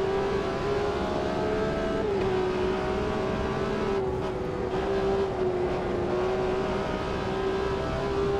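A BMW M1 Procar racing at Silverstone in the Automobilista 2 game, its engine a loud continuous drone that holds a steady pitch with slight rises and dips as it pulls through the lap, with no pauses.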